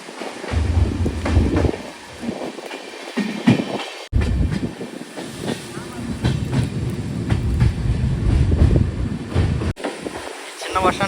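The Karwar Express rolls from Mangaluru toward Yesvantpur through hill country, with a loud, steady rumble and rhythmic clickety-clack of wheels on rail joints heard from aboard, punctuated by brief gusts and dropouts, and voices faintly mixed in.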